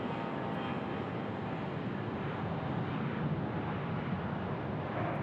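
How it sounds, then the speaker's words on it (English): Jet engines at Phoenix Sky Harbor Airport roar as a Southwest Airlines plane lands and a CRJ 900 jet departs, a broad, steady rumble with wind-like hiss and no pauses. "we've got a Southwest Airlines landing and a CRJ 900 leaving"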